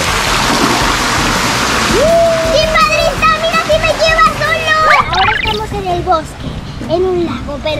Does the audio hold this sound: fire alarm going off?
no